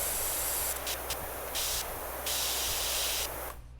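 A steady, loud hissing spray plays in a video game, pulsing slightly in intensity before cutting off abruptly near the end.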